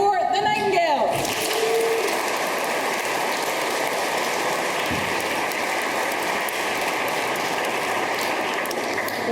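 Sustained audience applause for an a cappella group singing four-part harmony at a charity concert; steady dense clapping fills the whole clip after a brief bit of voice at the start.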